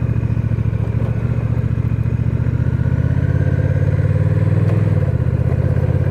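A Honda Rebel 1100 motorcycle rides past close and loud, its engine holding a low, throbbing rumble that swells slightly before easing off near the end, with no talking.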